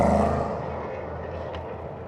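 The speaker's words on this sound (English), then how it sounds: "So listening to the Ginetta fire up there." A Ginetta prototype race car's engine fires up during endurance-racing qualifying at Portimão, opening with a loud harmonic blare that settles quickly into a steadier, lower rumble.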